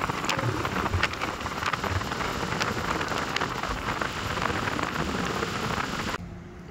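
Torrential rain pours down in Saswad, a dense steady hiss of drops drumming on surfaces that goes on without a break, then drops off suddenly near the end.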